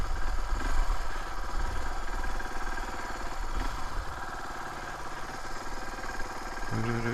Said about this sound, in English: There's loads of bikes here.